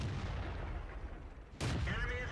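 A tank main gun fires in World of Tanks from a moving tank in third-person view: one sharp, loud broadband blast near the end, after a steady rumble of engine and battle noise.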